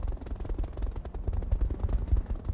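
Mech weapons fire in a RogueTech battle as a Ripper opens up on a mortar carrier: dense, rapid bursts of heavy automatic fire with booming low thuds, loud and continuous throughout.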